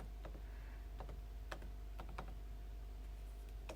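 Light, quick keystrokes on a computer keyboard, a faint scattered run of clicks over a steady low hum.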